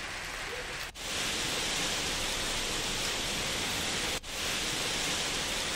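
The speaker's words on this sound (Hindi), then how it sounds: "यहां पर तेज बारिश हुई है, लोगों को कुछ मुश्किलों का सामना भी करना पड़ा।" Heavy rain pours steadily during a thunderstorm in Pendra, a dense, even hiss that fills the whole stretch with two brief dips; no thunder stands out.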